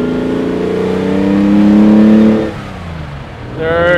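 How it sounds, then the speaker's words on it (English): A 1975 Ferrari 365 GT4 2+2 engine climbs through the revs from inside the cabin, drops briefly on an upshift, then pulls again, a loud, close, rising drone. "I'm gonna show you how we go up through the gears."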